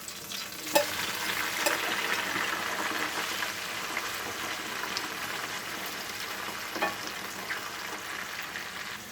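Green peppers sauté in a pan for shakshuka with a continuous crackling sizzle. Scattered sharp clicks and scrapes of stirring are spread through it, and the whole sound is close and steady with no speech.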